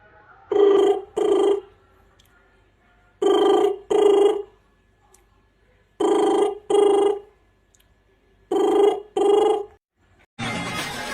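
A human voice mimics a phone ringing, producing four pairs of short trilling rings separated by pauses, close and clear, with a brief burst of noise at the end.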